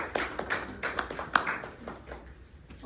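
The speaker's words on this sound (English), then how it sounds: "Please have a round of applause for them." A small audience gives guests at a book event a light, scattered round of clapping: sparse, uneven claps at fairly low level that thin out toward the end.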